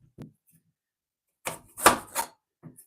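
A knife cuts sweet potato into fry shapes, a few quiet, close chops on a board separated by pauses.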